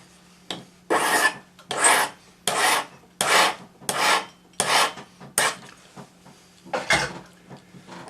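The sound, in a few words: hand file filing the end of a metal spiral pendant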